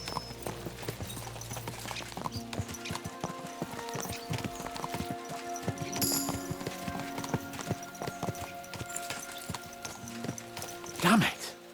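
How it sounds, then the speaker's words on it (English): Horses ridden hard across the land in Kingdom Come: Deliverance II, a steady run of hoofbeats rolling under game music and a voice, with a sharper burst near the end. "Let's really spur these horses on, eh?"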